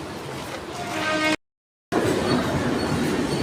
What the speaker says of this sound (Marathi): 1 नंबरला ट्रेन आले